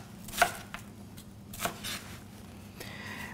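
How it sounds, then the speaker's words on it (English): A knife chops an onion on a cutting board for a red pepper soup, a few sharp scattered strikes with quiet gaps between them, close and clear with no talking. "So we're going to cut that onion."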